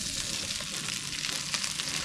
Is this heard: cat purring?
no